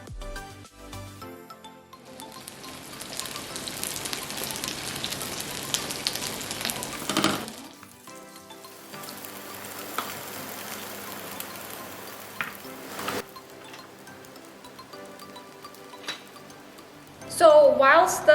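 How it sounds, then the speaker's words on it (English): Plant-based burgers, a soya-style patty, sizzle and fry in a pan with a steady crackling hiss, broken by occasional clinks of utensils and pan handling, then a sharper clatter near the end. "So whilst the burgers are actually frying"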